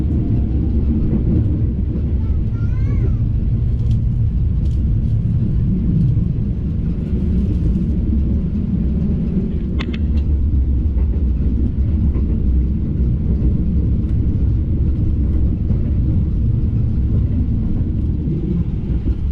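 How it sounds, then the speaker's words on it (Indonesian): Deep, steady rumble of the Serayu passenger train rolling past nearby in Indonesia, with a few faint higher squeaks and clicks above the continuous drone. "Kereta api Serayu dari arah Purwokerto."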